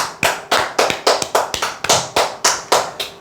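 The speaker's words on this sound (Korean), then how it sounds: "박수 한번 치시죠." A group clapping together in sharp, evenly spaced bursts, about a dozen loud claps in a steady rhythm with no talk over them.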